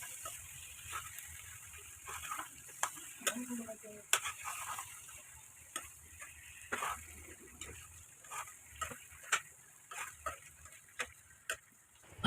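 Duck meat with pumpkin and spices is stirred in a pan, with faint quiet sizzling and irregular scraping ticks of the spoon, soft and close, with no talk.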